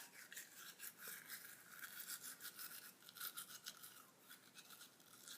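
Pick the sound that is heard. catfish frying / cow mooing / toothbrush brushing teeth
toothbrush brushing teeth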